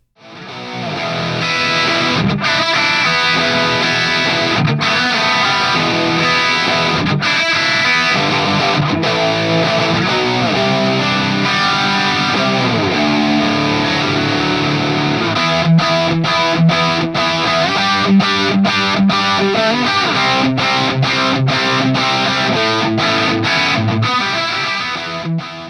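Loud distorted electric guitar played through a BluGuitar Amp1 Mercury Edition amp, heavy crunchy British rock chords ringing and sustaining continuously, with occasional sharp stops between phrases.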